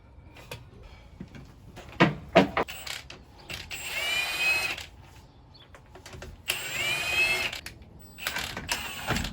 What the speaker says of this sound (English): Remove the tire using a 17 mm socket.